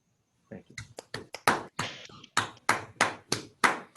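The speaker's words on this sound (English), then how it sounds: "Let's clap first" A few people clapping on a Zoom call, sparse uneven claps that build into a quick run of sharp, close hand claps.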